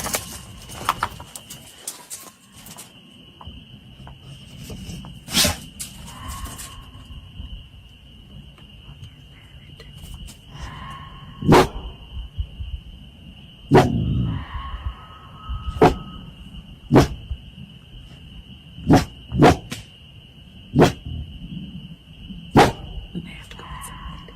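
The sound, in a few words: dog barking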